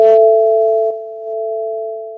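A loud, steady electronic test tone sounds without a break, starting with a brief burst of extra buzzy overtones that fades within the first moment.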